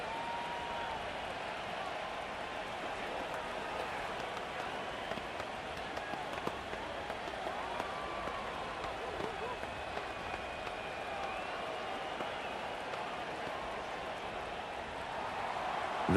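Stadium crowd noise in a Madden 25 simulated NFL game between the Texans and 49ers, a steady broad roar with scattered clapping after a game-tying kick, continuous and fairly even throughout.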